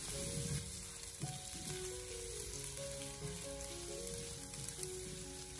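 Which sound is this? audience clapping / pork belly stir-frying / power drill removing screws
pork belly stir-frying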